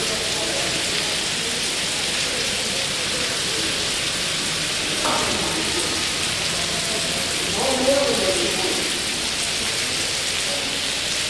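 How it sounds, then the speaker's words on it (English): A heavy rain downpour at the Qorikancha monastery and temple, steady dense hiss filling the whole clip, with faint voices and a few brief indistinct sounds underneath. "Downpour going on."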